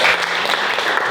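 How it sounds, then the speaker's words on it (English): A round of applause from guests at a gathering of family and friends, a dense, steady wash of clapping that fills the whole moment close by. "so you guys give her a round of applause"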